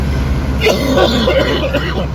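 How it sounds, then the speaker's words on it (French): A single person with the flu coughs and clears their throat close by, over a loud steady background rumble like a vehicle interior. "Je suis vraiment tanné de tousser là"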